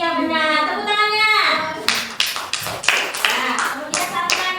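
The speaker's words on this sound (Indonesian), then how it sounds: "Tepuk tangannya." A fifth-grade class claps in rhythm in a classroom, the crisp bursts of hand claps following a teacher's raised voice and carrying on in steady beats to the end.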